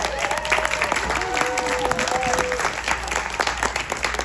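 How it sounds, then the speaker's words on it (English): Audience applause at a film event honoring a TV Academy governor, steady broadband clapping throughout with a sustained tonal whistle or feedback line weaving through the first half. "let's just give a huge round of applause for Tripti"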